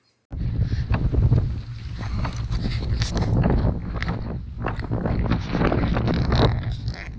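Strong wind buffets the microphone while a Hobie Tandem Island sails straight into the wind. Loud, gusting roar and water wash start abruptly and stay continuous, surging and easing over several seconds with no speech.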